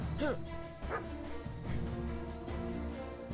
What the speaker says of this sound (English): But they're a robot dog, actually.